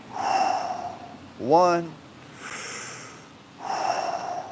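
Deep breathing exercise with long, audible breaths in and out at a slow, even pace, close and fairly loud, with a person speaking briefly between breaths.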